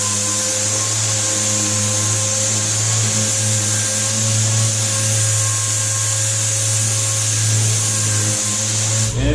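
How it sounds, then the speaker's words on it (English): A DA sander hums steadily with a strong constant drone while it sands Bondo filler on a car body, close and unbroken with a gritty scrubbing texture and no talk. "when I'm using this DA, I'm just holding it with the palm of my hand, and I'm letting it do the work"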